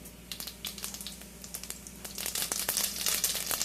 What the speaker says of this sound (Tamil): இது முதல்ல கடுகு தாளிச்சுக்கலாம்.